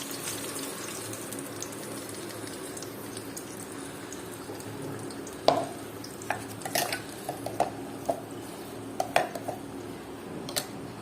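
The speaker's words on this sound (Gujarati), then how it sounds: "વાણીબેન ચલાવે છે ગ્રેવીને" Aloo dum gravy stirred in a pan over low heat, with a quiet steady simmer beneath scattered sharp clinks and scrapes of a spoon against the metal, spaced irregularly and heard up close.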